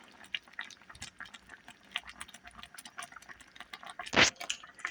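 Liver, onions and Pepsi gravy simmering in a pot, giving off soft, irregular bubbling pops and drips, with one louder wet blurp near the end.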